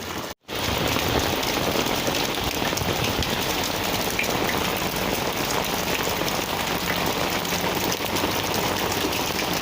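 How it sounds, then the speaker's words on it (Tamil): Steady heavy rain pours onto a home terrace and runs into a storage tank, a dense continuous hiss lasting throughout after a brief dropout at the start, with no voices. "பார்த்தீங்களா, இன்றைக்கும் எங்கள் ஏரியாவில் மழை பெய்யுது"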